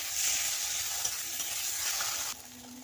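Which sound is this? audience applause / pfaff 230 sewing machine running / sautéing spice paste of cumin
sautéing spice paste of cumin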